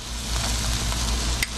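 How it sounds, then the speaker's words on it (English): Vegetable curry ingredients, with a spoonful of peanut butter just added, sizzle steadily in a hot pan while being stirred: a continuous close frying hiss with soft scraping, ending in a brief sharp clink. "So stir for 2 to 3 minutes."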